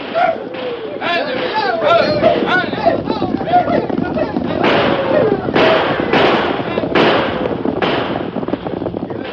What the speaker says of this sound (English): There were wild shouts and the thunder of gunfire.